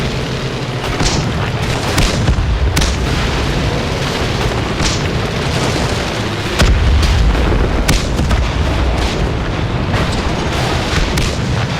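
Tank cannons fire during a World of Tanks-style battle in a video game, with repeated heavy booms and blasts over a dense, constant rumble of engine and battle noise and no talking.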